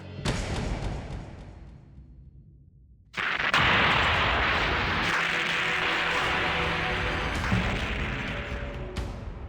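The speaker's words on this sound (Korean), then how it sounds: "한양 도성 한복판에서 폭탄 테러 사건이 일어난 겁니다" A bomb explodes in a dramatized historical scene set in the Joseon-era capital: a sudden heavy blast strikes, then a sharper, louder boom follows, trailing into a long sustained roar and crackle of debris that fades slowly.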